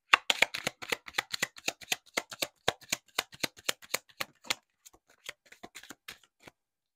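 Tarot cards shuffled by hand in quick, crisp riffles and slaps, close up and clear against near silence, thinning out toward the end.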